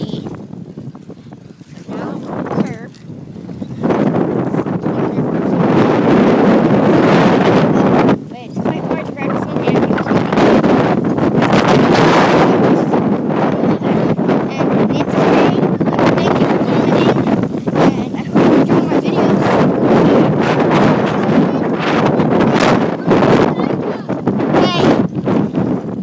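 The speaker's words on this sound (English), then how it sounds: "it's windy, really windy" Loud, continuous wind buffeting a microphone, a heavy roaring rumble that swells and persists throughout, with a voice faintly audible beneath it.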